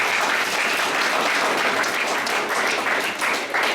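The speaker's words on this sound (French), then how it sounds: "Vous pouvez nous applaudir encore, s'il vous plaît" An audience at a graduation ceremony gives dense, continuous applause, many hands clapping together at close range with no talk.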